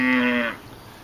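A single cow lets out one loud, close moo on a farm during a cattle herding and sorting morning. The call holds steady for about half a second, then cuts off into quiet outdoor background.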